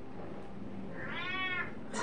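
A cat meows once in a Batman Telltale series video game, a rising and falling harmonic cry over a steady background hum, followed by a brief second sound at the very end.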